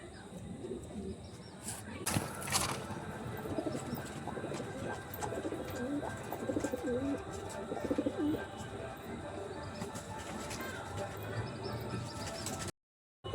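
Pigeons coo softly in repeated low burbling calls, close by, over a faint background hum with brief distant chatter.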